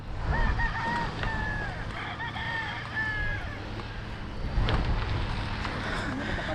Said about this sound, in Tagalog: Grabe oh, ang daming manok panabong.